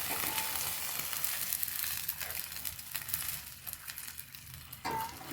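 Rice water being poured into a simmering curry during a home lunch preparation, a steady sizzling, bubbling wash with a few faint clinks, close up, no voices.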